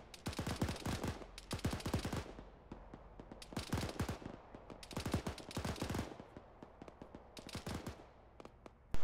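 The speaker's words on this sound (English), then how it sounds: "I don't know what they're shooting at." Video game gunfire rattles in several long automatic bursts, dense rapid cracks separated by brief pauses, loud and close with no voices over it.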